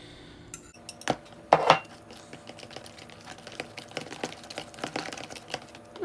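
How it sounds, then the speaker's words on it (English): Metal utensil clinks and scrapes against a bowl as melted butter is stirred into mashed bananas for banana bread, a few sharp knocks near the start followed by softer, irregular scraping, close and moderately quiet with no talking. "stir the melted butter into the mashed bananas"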